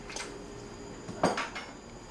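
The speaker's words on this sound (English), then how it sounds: "Right now I'm going to put in the necessary beef bones that I mentioned" Beef bones going into a soup pot for vegetable soup, giving a few soft knocks and clinks against the pot, then one louder clatter near the middle.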